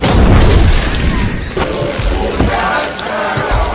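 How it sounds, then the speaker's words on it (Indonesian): Film scene of gas canisters exploding inside a microwave: a loud booming blast opens, followed by sustained roaring rumble and debris crashes, with further impacts near the middle and end. "memasukkan beberapa tabung gas ke dalam microwave sehingga terjadi ledakan"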